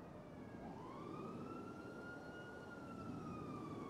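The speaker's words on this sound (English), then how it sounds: "I hear cops. It's sirens." A police siren in the video game NoPixel wails steadily in the background, its pitch gliding up and down over a low rumbling engine drone, moderately distant and continuous.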